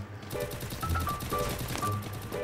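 Gunfire in the battle royale video game Free Fire, a steady rapid burst of automatic shots over game sounds, with several brief higher tones, lasting the whole short stretch with no talking.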